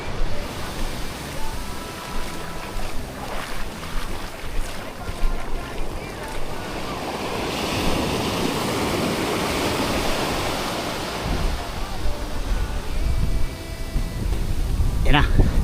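Ocean waves washing against a small wooden outrigger boat with a damaged bow, rushing surges and wind buffeting the microphone, with voices talking over the water.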